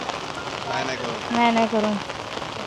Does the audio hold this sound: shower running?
no